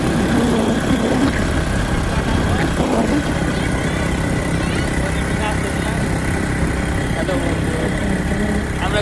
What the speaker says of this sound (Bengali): আমি বাইক রাইড করছি